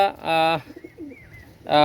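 Pakistani pigeons coo twice, a sustained throaty call, a short pause with faint chirps, then another coo starting, close and fairly loud.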